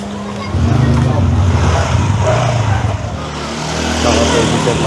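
A car engine idles and revs on a narrow street crowded with a clothesline, a steady loud rumble with people talking over it throughout.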